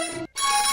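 A cartoon phone ringtone chirps in a bright, electronic tone, split by a brief gap of silence, loud and near, with no talk over it.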